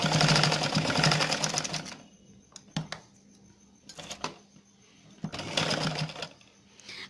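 Sewing machine stitching hosiery fabric laid over a paper strip, running in loud close bursts of rapid stitching separated by quiet pauses with a few isolated clicks, and no talk.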